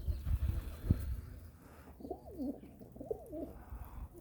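A pigeon coos softly twice in a soft rolling pattern, after some low rustling and a thump nearby.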